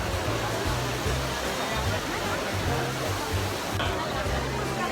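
Water pours steadily at the Trevi Fountain in Rome, a continuous broadband rush filling the scene, with a dense crowd's murmur and scattered voices blended beneath it throughout.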